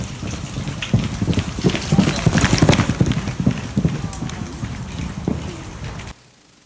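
A horse's hooves clip-clop in a quick, steady rhythm close by, loud and continuous for about six seconds before cutting off abruptly, with some background noise mixed in.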